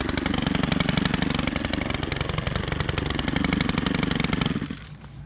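A Stihl HT101 pole saw runs hard and close while cutting a tree limb outdoors in Hatteras, its buzzing two-stroke engine holding a steady high pitch for about four seconds before dropping away at the end.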